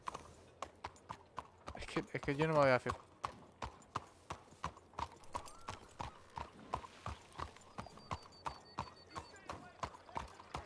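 Horse hooves clip-clop in a steady, close rhythm throughout, with a brief horse whinny near the start and people talking over the hoofbeats.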